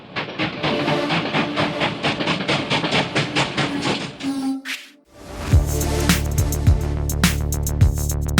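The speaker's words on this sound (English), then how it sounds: "All aboard the choo-choo train." Train sound effect: rhythmic clickety-clack of rolling rail cars, then a short whistle and a steady rumbling run with periodic clanks, loud and close.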